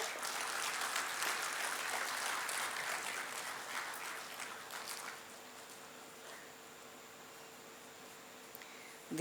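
Audience clapping at the felicitation ceremony of the 6th National Chilika Bird Festival, a dense crowd applause that holds for about five seconds, then fades into quiet room hum with a final soft knock.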